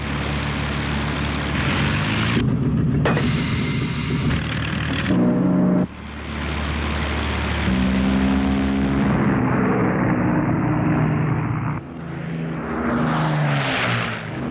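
Lancaster heavy bombers of the Second World War drone with a loud, continuous propeller-engine roar in archival wartime footage, the throbbing hum shifting in pitch and intensity across several cuts, with no speech.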